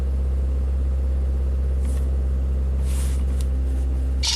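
A Chevy Captiva GDI engine runs loud and close with a deep steady rumble, held at raised revs throughout with little change, and faint hissy bursts above it.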